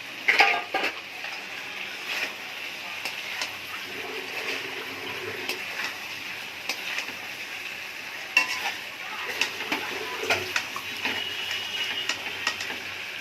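Fried potatoes get stirred into a cooked-down spice masala in a pan, with scraping spatula strokes, light sizzling and small clinks spread across the whole stretch.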